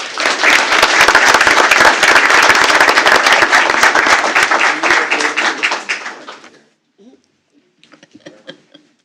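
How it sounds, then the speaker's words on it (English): A large crowd at a school board meeting claps loudly and densely for several seconds before the applause fades out, followed by a few scattered claps and faint noises. "Please join me in giving Jackson and Will a well-deserved round of applause."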